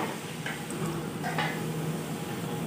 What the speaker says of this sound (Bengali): আবার একটু নাড়াচাড়া করে নিলাম।